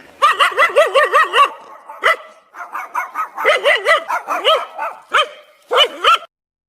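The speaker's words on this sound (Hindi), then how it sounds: "फिर कुत्ता जाते हुए आदमी को देखकर जोर जोर से भौंकने लगा।" A dog barks loudly in rapid bursts, pausing briefly between volleys of sharp, repeated barks close by.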